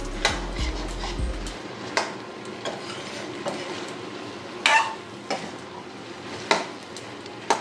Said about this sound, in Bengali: বেগুনটা একটু ভাজা হতে থাক